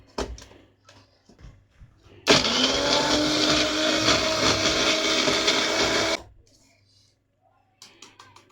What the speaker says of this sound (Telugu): ఇప్పుడు మిక్సీ కొట్టాలన్నమాట.